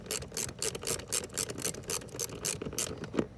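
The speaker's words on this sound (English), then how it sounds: "we're gonna undo 3 of these screws that hold that actuator in" A screwdriver bit backs out screws holding the HVAC blend door actuator in a 2004 Honda Odyssey. It makes a rapid, steady ratcheting click close up, with no talking.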